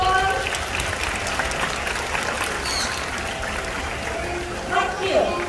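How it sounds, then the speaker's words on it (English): Audience applause at the High Flyers bird show at Jurong Bird Park, Singapore: sustained clapping from a crowd, with a voice speaking over it and bird calls chirping through. "Can we give a big round of applause, everyone?"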